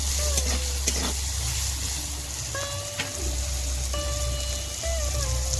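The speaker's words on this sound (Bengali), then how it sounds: "ভালো করে নেড়ে দিয়ে দেব লবণ ও হলুদ," Bata fish with salt and turmeric sizzles steadily in a hot pan while being stirred, with a constant frying hiss and occasional light scraping throughout.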